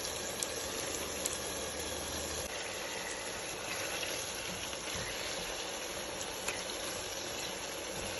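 Garlic frying in coconut oil for a spinach stew, a quiet steady sizzle with faint bubbling that runs evenly throughout, no talking over it.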